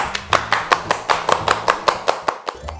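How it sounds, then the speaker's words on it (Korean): About a dozen crisp handclaps in an even, quick rhythm, close and clear with little else around them, slowing slightly toward the end. "고맙습니다. 박수."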